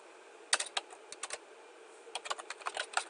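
Keystrokes on a computer keyboard as a login and password are entered, two short bursts of quick, light clicks separated by a pause, fairly close and with no talking.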